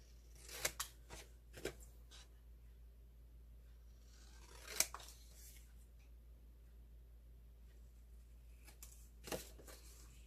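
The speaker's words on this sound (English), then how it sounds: "Scissors." Scissors snip several times up close, sharp crisp cuts spaced irregularly with quiet pauses between, no talking.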